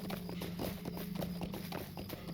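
Horse hooves clip-clopping in the video game Lord of the Rings Online: a steady, even rhythm of crisp hoof strikes over a faint ambient bed, close and clear, with no speech.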